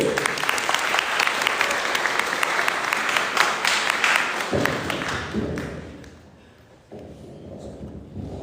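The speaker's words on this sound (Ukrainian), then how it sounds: "Будь ласка, ваші оплески!" Audience applause at a college first-day-of-school ceremony, a broad crowd of clapping hands, loud and steady before thinning out and then picking back up briefly near the end.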